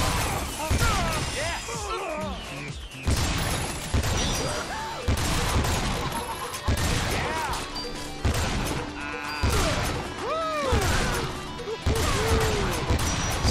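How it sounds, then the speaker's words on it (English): Gunfire in Lollipop Chainsaw comes as repeated loud bursts of shots and crashing impacts, mixed with other game effects and a player talking over the action. "So let's just spam some fucking bullets here."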